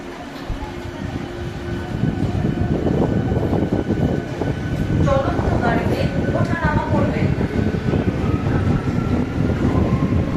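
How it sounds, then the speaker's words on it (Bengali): A Howrah-Bandel local train runs on a rainy day, its steady rumble and rattle of wagons filling the clip, with some voices and wind noise mixed in and a few brief tonal squeals midway. "আমরা ছুটে এসে হাওড়া ব্যান্ডেল লোকাল ট্রেনে উঠে পড়লাম"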